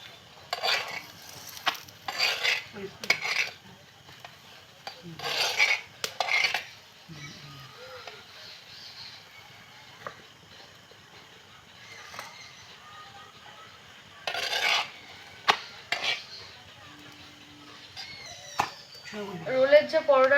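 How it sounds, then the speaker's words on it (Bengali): Egg roll paratha frying in oil in a pan, with soft sizzling under a person talking and repeated metal clinks and scrapes as it is turned and stirred. "বন্ধুরা রোলটা কিন্তু খুব ভালো করে ভাজতে হবে,"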